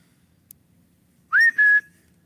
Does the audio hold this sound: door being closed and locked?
no